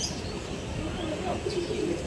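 A pair of racer pigeons, a male and a female, coo softly in a low, murmuring rumble with a brief brighter note near the end, close by against steady background noise.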